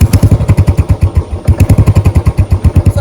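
A motorcycle engine running at idle close by, loud rapid regular thumping pulses throughout with no talk.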